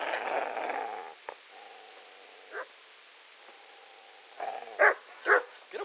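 A dog in the medieval video game Kingdom Come: Deliverance gives a few short, sharp barks and yips near the end, following quieter whines and growls, with no talk over them.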